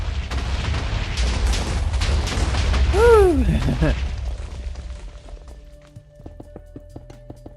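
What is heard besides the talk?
spear exploding in video game Echocraft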